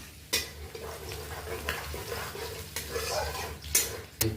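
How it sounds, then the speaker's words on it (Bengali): Curry leaves frying in a spice paste of garlic and chopped ingredients in a pan, a steady soft sizzle with a few sharp stirring and utensil clatters, close and alone with no voices. "তারপরে আমরা দিয়ে দেব কারি পাতা, অল্প ভেজে নিচ্ছি।"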